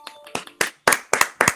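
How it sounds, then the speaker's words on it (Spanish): A few separate claps from online attendees with open microphones at a virtual event, about five sharp hand claps spaced unevenly, close and moderately loud, with no talking over them. "que me apoyen abriendo su micrófono para brindarle un caluroso aplauso"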